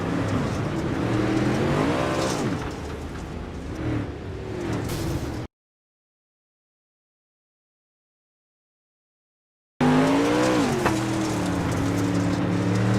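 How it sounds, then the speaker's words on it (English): Onboard a dirt-track Pro Late Model race car spinning out, the engine revs and wails in rising and falling sweeps, cut by a few seconds of dead silence before the loud revving returns. "This is on board now with Duranko's car"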